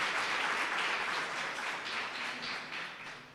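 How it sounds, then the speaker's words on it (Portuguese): A church congregation applauding, a dense, steady wash of many hands clapping at a moderate distance with no speech over it. "Só você que crê, dá um aplauso ao Senhor em nome de Jesus."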